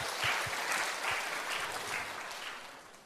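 A church congregation applauds together, a dense, steady wash of clapping that holds for a few seconds and then tapers slightly.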